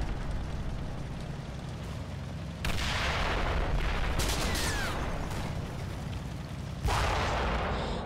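Mortar fire in a WWII tactics video game: dense, continuous rumbling bombardment with heavy booms, one loud burst near the middle and another near the end, with a faint whistle passing through.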